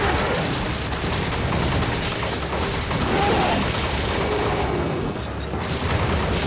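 Sustained automatic gunfire from a mounted gun in Resident Evil 5, a dense continuous roar of shots that briefly dips before resuming, loud and close throughout.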